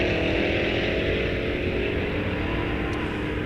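Bracket drag racers, including a big Oldsmobile, launch at Rock Falls Raceway, loud engines roaring hard and close with a rough, pulsing rumble that holds steady.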